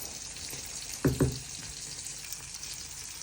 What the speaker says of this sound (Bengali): এখন যে পটল ভাজা বসাইছি